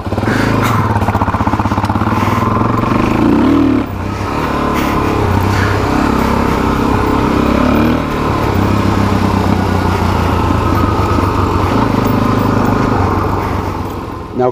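Fully loaded Suzuki DR-Z400SM motorcycle riding with a steady, loud engine drone and wind rush throughout, rising and easing slightly with throttle, heard close from the rider's position.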